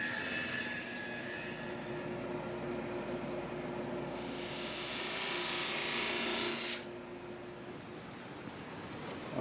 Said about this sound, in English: I'll continue to run this through the thickness sander to get down to the thickness